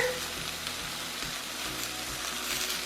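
Tomato sauce poured into a hot pan sizzles with a steady broadband hiss, close and continuous over a few seconds with faint low knocks underneath.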